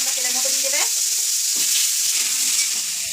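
Nigella seeds, chili and radish sizzle in hot oil in a wok, a steady close crackle throughout; a brief tonal note in the first second fades and leaves the frying alone.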